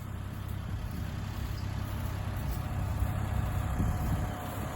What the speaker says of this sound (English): I love this old tractor.